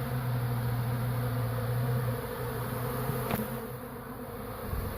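A swarm of honeybees arriving and fighting among several hives, with a steady, dense buzz that fills the whole clip, close and continuous, with a low hum that fades slightly partway through.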